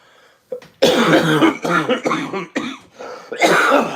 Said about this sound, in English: I'm still coughing from the Canadian fires.